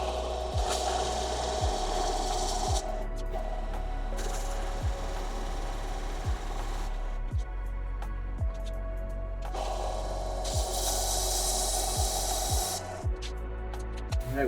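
A chipped Fiskars axe is ground on a low-grit sharpening surface, with long, even abrasive hissing strokes in several extended passes, close and steady over a low background hum, with brief pauses between runs.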